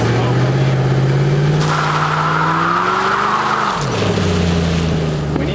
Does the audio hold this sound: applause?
no